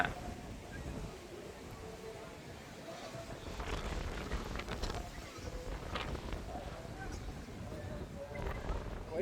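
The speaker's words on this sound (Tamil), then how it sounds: "காற்று நல்லா செம்ம காற்று அடிக்குது" Strong wind buffets an outdoor microphone with continuous loud rumbling gusts that swell and ease throughout.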